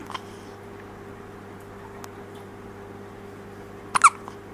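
A two-week-old baby hiccuping, one short, sharp hiccup near the end over a quiet room with a faint steady hum, plus a few soft ticks earlier on.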